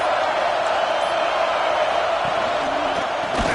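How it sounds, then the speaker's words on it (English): A football stadium crowd roars in a steady, dense wash of noise, loud and continuous throughout with no single voice standing out. "This crowd ready to make its presence known."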